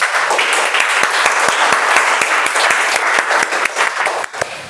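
Audience at the opening of a Toastmasters club meeting clapping, loud, close, continuous applause with sharp individual claps standing out throughout.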